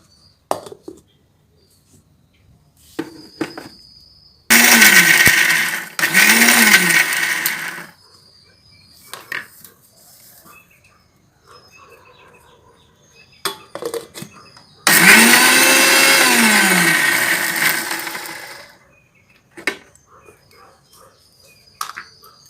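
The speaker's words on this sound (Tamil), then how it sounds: "மிக்சி ஜாரில் கொஞ்சம் கொஞ்சமாக போட்டு இதே மாதிரியே விட்டு விட்டு அடிக்கணும்" A mixer grinder grinds sesame seeds and jaggery in two loud bursts of several seconds each, the whirring motor rising and dropping in pitch, with quieter clinks and rustles in the pauses between.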